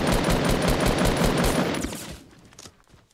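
Rapid automatic gunfire in the video game Fortnite, a dense burst of loud shots that fades after about two seconds into scattered fainter noise.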